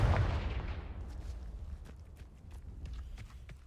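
A Confringo blasting curse goes off in Hogwarts Legacy as a loud burst that decays over about a second, followed by fainter scattered thuds and crackles.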